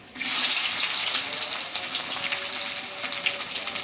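Onions tipped into hot oil already frying dry red chilies, a loud burst of sizzling that settles into a dense, steady crackle close by, with no talking.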